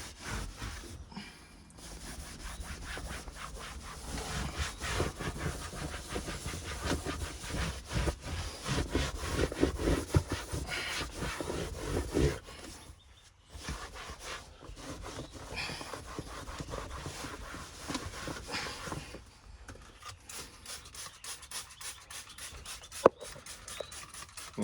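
A brush scrubs steadily in close rhythmic back-and-forth strokes over a soaked, moldy part from a 1965 Ford Falcon, with a few short pauses.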